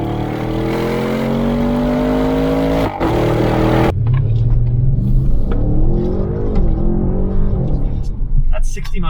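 A 600-horsepower 2021 Audi RS7 engine roars and revs hard up through the gears, loud and close, with a voice speaking over it.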